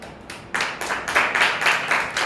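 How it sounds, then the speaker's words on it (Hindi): A church congregation claps in a quick burst of applause, the claps coming in rapid, rhythmic groups that grow slightly louder, close and alone without talk. "हन्ना की लिए ताली"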